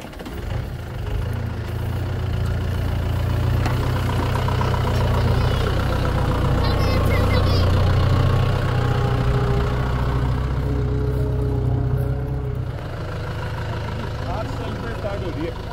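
A van's engine idles with a steady low rumble throughout, heard close and fairly loud, while people talk over it.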